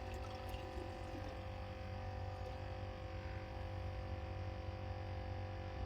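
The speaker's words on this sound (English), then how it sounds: "We definitely are getting some water in this bucket now." Water pours steadily into a fishing bait bucket, making a continuous, even rushing hiss that stays at the same loudness throughout with no talking.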